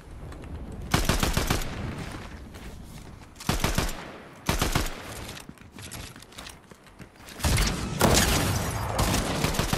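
Rapid bursts of gunfire and sharp rifle shots from an Unreal shooter match, several loud clustered volleys separated by short pauses, with a final prolonged burst.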